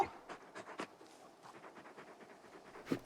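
In the video game Final Fantasy XVI, a large dog pants quietly in a rapid, rhythmic series of soft breathy huffs, faint and close with no talk.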